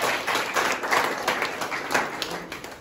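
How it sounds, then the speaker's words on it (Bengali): Audience clapping at a school awareness program on violence against women in Dullabcherra, a steady patter of hands lasting a few seconds before fading at the end. "একবার জুড়ে হাততালি।"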